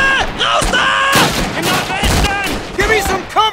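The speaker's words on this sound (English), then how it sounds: "Artillery, take cover!" Artillery fire in a LEGO World War 2 animation of the Battle of the Bulge: repeated loud booms and gunfire bursts crowd together, with shouting voices and groans mixed in between blasts.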